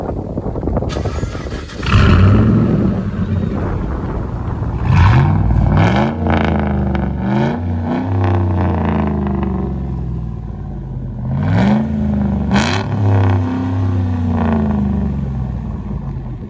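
A loud modified truck engine starts up and then revs hard several times. Each burst climbs and drops back to a rumbling idle, with some clatter and almost no talking.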